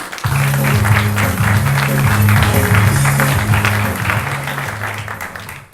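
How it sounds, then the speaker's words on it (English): Studio audience of a tabloid talk show applauds in a steady, loud round, with a low sustained musical tone running beneath the clapping throughout. "Give her a round of applause."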